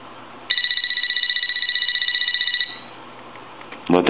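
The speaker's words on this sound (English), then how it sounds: "Here's your piezo buzzer." An AT&T 4200 cordless telephone's piezo buzzer rings in a loud, rapidly warbling trill for about two seconds, then stops. A brief clunk or handling noise follows.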